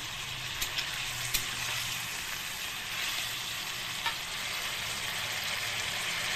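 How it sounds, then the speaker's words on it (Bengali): Fried cauliflower being sautéed in a pan for a katla fish curry with potato, giving a steady close sizzle with a few faint stirring clicks throughout and no talking. "ফুলকপিটা ভেজেছিলাম, এবারটা ভালো করে এখানে কষিয়ে নেব যতক্ষণ জলটা না মজে যাচ্ছে"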